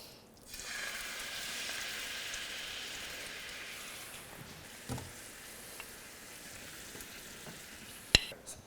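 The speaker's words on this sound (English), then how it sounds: "we're going to go ahead and put that on the sauté pan that we just took the halibut out of" Flour, butter and heavy whipping cream sizzle in a sauté pan still hot from cooking halibut, a steady close frying hiss that eases a little midway, with a few sharp clicks near the end.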